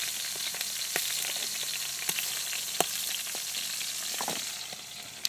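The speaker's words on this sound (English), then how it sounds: "that oil is starting to pop and kick out" Salmon cooks in hot oil inside a wood-fired brick oven, with a steady close sizzle broken by several sharp pops and spits of oil, without any talk.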